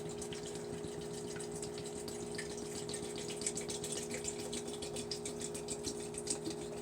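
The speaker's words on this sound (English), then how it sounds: "So I'm going to add water." A steady stream of water pouring into a half-gallon glass mason jar, trickling and splashing continuously with a faint mechanical hum underneath.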